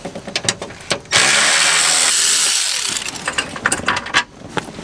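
A tool whirs in a steady sustained burst lasting a couple of seconds as 7mm screws come out of a Chevy Avalanche remote start unit, framed by quick ratcheting clicks before and after.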